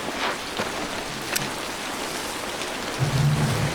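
Steady rain falls in a WWII jungle scene from The Pacific, a constant close hiss of drops with a few sharper spatters and a low rumble near the end.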